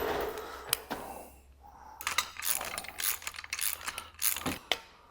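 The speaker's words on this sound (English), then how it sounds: "Torque wrench." A torque wrench clicks quietly and repeatedly while tightening a bolt to 31 foot-pounds during an air bag suspension install on a Ram truck, with scattered metallic ratcheting and handling noises close by.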